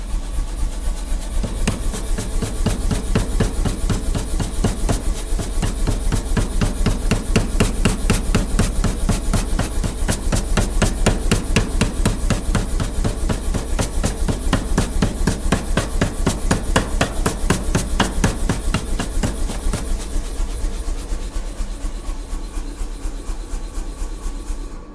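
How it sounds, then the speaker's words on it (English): An electric, compressor-driven pneumatic power hammer in a blacksmith forge pounds in a fast, even stream of strikes, loud and near and steady for the whole stretch, with no talking. "So that's the electric hammer. It's, well, you'd say it was pneumatic."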